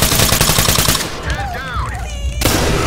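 Rapid automatic gunfire in a police tactical shooter game rattles in loud, fast bursts, breaking off briefly for a moment of quieter sounds before the shooting resumes.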